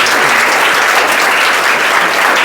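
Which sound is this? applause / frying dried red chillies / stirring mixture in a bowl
applause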